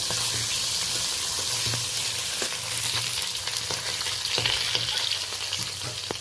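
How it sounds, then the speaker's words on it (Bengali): Pieces of pangas fish fry in a pan of hot oil, producing a dense continuous crackle and hiss with occasional stirring scrapes and taps, close up and with no one speaking. "পুরো মাছটাই আমি ভেজে নেবো"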